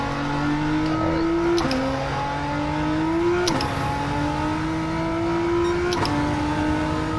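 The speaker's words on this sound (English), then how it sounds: "This high RPM turbocharger is quick to spool." A turbocharged Nissan Z on a track lap pulls hard through the gears. The loud, continuous engine drone climbs steadily in pitch, then drops at a quick upshift roughly every two seconds, with no voices over it.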